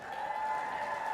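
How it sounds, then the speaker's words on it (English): Brief, steady applause from a small audience at a jigsaw puzzle championship awards ceremony honoring the third-place pair, a continuous even patter of clapping with no voices over it. "let's give a quick round of applause for our 3rd place winner, Kathy and Jean Reuter"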